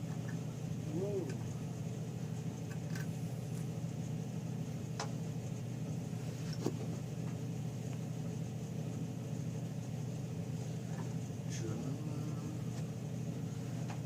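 A rebuilt Briggs small engine runs at a steady idle, a constant low rumbling drone close by with faint ticks and occasional clicks, and a voice murmurs briefly over it.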